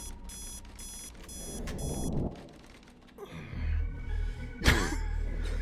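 Electronic alarm clock beeping in a video game, a few rapid bursts of high repeating tones, followed by a groggy male sigh and rustling in a quiet room.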